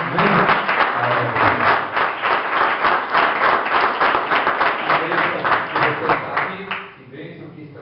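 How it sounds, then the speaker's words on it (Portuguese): Church congregation clapping together in steady, dense applause for the Lord during an evening service, loud and sustained before thinning out at the end, with a voice speaking briefly over it. "Vamos aplaudir o Senhor mais uma vez."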